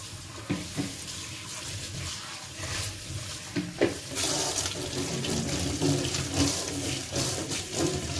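Hot water runs steadily from a kitchen tap, heated by a water heater, with a broad continuous rush interrupted by a few brief clinks and splashes as something is rinsed under the stream.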